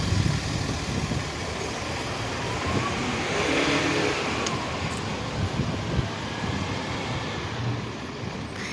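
Heavy lorries rumble along a narrow Norwich city street, a steady broadband traffic roar close by with low engine drone and some wind buffeting on the microphone, no voices present.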